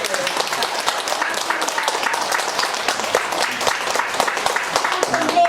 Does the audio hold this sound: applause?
yes